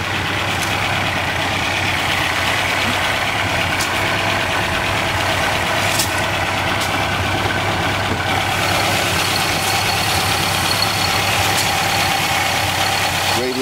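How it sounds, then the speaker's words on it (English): A 1953 Jowett Javelin's 1500cc flat-four engine idling with a steady, close mechanical chatter and low hum, a few brief clicks standing out over the even running. "You can see that flat 4 engine, 1500cc, same engine as the Jowett Jupiter."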